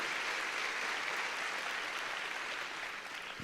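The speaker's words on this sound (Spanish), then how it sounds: "démosle palmas fuertes a nuestro Señor" A church congregation claps for the Lord, a steady, even patter of many hands sounding somewhat distant and soft, continuing without pause and without voices.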